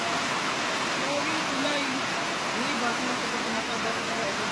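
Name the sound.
strong river current rushing water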